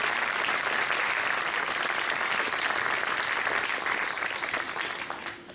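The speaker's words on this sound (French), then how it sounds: "vous pouvez l'applaudir" An audience applauds at the opening evening of a film festival, a dense steady clapping that carries on for several seconds before tapering off near the end.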